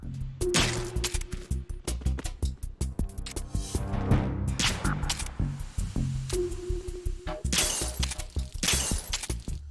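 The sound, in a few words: smashing food supply in Metal Gear Solid 2 video game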